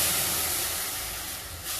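Squeezed tamarind pulp hits a hot pan for Melkote-style puliyogare gojju, giving a loud, steady, broad sizzling hiss that eases off slightly toward the end, with no voice over it.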